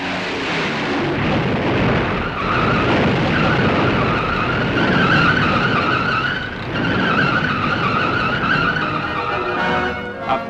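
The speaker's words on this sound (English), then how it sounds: "No choice for the captain, it's got to be a belly landing and all the danger of fire." A Lockheed Constellation airliner belly-lands at Bogota's El Dorado airport in 1962 with its landing gear jammed: a loud, continuous roaring and scraping rumble with a whining tone runs steadily for about ten seconds, no voices.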